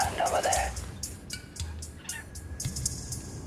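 Megapode birds on volcanic ash ground in New Guinea give a scattering of gobbling, clucking calls, fairly close and moderately loud, with people talking faintly in between.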